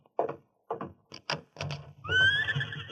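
A big white stallion whinnies in an old radio drama, preceded by several short separated snorts and hoof knocks, then a loud, bright neigh that rings on to the end, close and alone.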